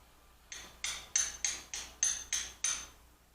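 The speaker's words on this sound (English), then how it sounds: "Just give it a little tap, very lightly." Eight light, sharp metallic taps from a small hammer on an oil pump pickup tube of a Ford 5.0 small block Windsor engine, evenly spaced and quiet, each ringing briefly in an otherwise still room.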